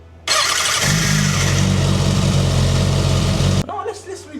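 A Kawasaki motorcycle engine fires up abruptly and runs at a loud, steady idle with a throbbing low rumble for about three seconds, then cuts out, leaving faint background sound.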